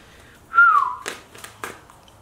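A short, clear whistled note sliding slightly downward, followed by a few soft taps or clicks in a quiet room.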